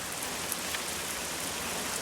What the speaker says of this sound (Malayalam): ഈ അടുത്ത കാലത്ത് നമ്മുടെ നാട്ടിൽ ഇങ്ങനെ ഒരു മഴ വന്നിട്ടേ ഇല്ല.